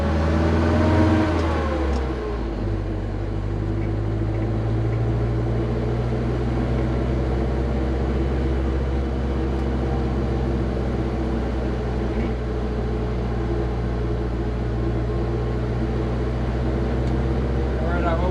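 Steady engine drone of an Austin Gipsy G2M10 with a newly fitted Weber 34ICH carburetor climbing a hill, the tone rising early and then holding a sustained pull, with someone talking over it.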